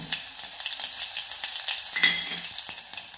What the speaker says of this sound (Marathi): मोहरी चांगली भाजली, आपली चांगली तडतडायला लागले।